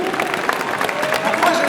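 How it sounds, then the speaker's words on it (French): An audience at an e-sports event cosplay contest applauds the contestants. Dense clapping and crowd noise carry a faint tonal whine and a voice in the mix. "on peut les applaudir"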